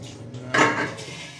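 A metal lid lifts off a momo steamer pot of vegetable momos after the gas is turned off: one short, bright clatter of pot against lid, then a fading ring.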